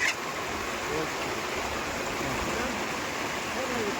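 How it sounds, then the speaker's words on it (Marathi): Heavy monsoon rain pours down outside at night, a steady broadband rushing wash like running water, constant and close with a voice talking over it. "अशा प्रकारे ना असा पाऊस चालू आहे"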